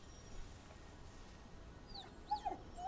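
A dog in the video game Ghostwire: Tokyo gives a few soft, high whimpers near the end, faint over a quiet ambient background.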